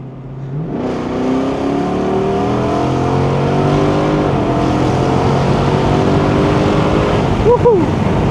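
A Jeep SRT engine roars from inside the cabin, rising in pitch through a sustained hard acceleration with gear-like sweeps, loud and continuous.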